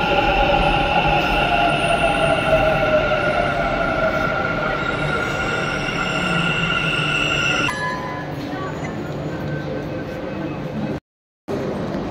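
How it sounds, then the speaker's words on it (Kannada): Loud metro train rolling into a station with a steady rumble and high tonal whine that fades as it slows, then quieter platform ambience. "ನಮ್ಮ ಟ್ರೈನ್ ಬಂತು"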